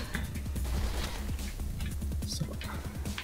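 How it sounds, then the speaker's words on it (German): Gunfire in the first-person video game Mirror's Edge: rapid bursts of shots in quick repeated volleys over a busy game soundscape, continuous for several seconds. "Zumindest habe ich Schuss gehört"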